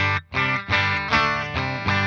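Electric guitar played through an MXR Sugar Drive overdrive pedal into a single-ended amp with reverb, sounding a few thick, distorted chords in quick succession, close and loud.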